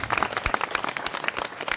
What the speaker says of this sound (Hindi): इनकी अतिरिक्त मेहनत के लिए भी मैं चाहता हूं आपकी तालियां उठे।